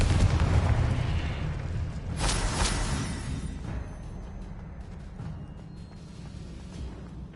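Booming blasts from the Confringo explosion spell in the video game Hogwarts Legacy: a loud burst and rumbling roar that gradually fades and settles into a low, lingering rumble, with no voices.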